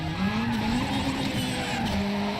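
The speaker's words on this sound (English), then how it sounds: "Oh god, the car did not sound happy." A rally car's engine roars close and loud in the video game WRC 5 while tires squeal and skid continuously in a steady, harsh wail.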